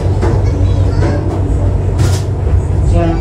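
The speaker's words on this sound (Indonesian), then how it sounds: "kereta api Joglo Semarkerto telah diberangkatkan" Aboard the Joglo Semarkerto passenger train as it pulls away from the station, a loud continuous low rumble of the moving cars carries on throughout, with faint voices in the background.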